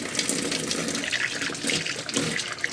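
Water pours steadily into a Samsung automatic washing machine at the start of a cleaning cycle, a continuous hissing rush with faint clatter and no talk.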